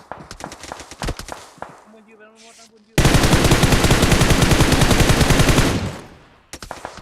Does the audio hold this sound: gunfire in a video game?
yes